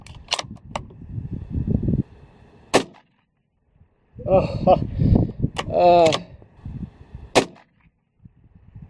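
A Lithgow Arms LA102 .223 rifle fired outdoors, with about five sharp, loud cracks at irregular intervals and bursts of voice-like sound between them.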